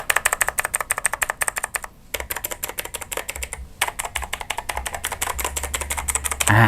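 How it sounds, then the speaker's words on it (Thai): Fast typing on a clicky NUBWO Flicker NK-34 mechanical keyboard with keycaps, dense crisp key clicks in quick bursts with a brief pause, heard up close. "ก็จะประมาณนี้คิกกี้ตามแบบฉบับแมคานิคอลทั่วไป"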